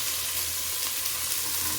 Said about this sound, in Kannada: ಇವಾಗ ನಾನು ಬೀನಿಸನ್ನು ಹಾಕ್ಕೊಳ್ತೀನಿ.